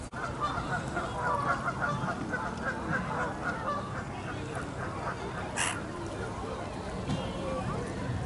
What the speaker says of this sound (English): Plenty of bird life.